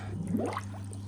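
Air bubbles escaping from a spa filter held in water, a brief soft rising gurgle over a low steady hum.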